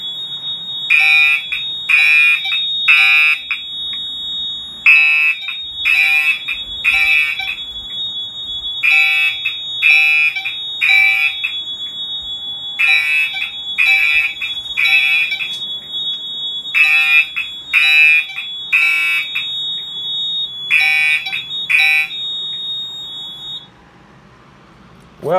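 A fire alarm system is set off by a smoke detector and sounds code 3: groups of three piercing electronic horn blasts repeat over and over, loud and near, under a steady high tone, then go silent.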